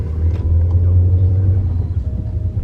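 Steady low engine rumble and road noise from inside a moving car, loud and continuous with no talk.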